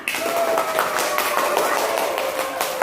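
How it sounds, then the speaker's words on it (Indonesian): A group claps together at the close of a school coaching supervision session, a lively, continuous patter of hands over a few seconds with some voices mixed in. "Tepuk tangan untuk semuanya"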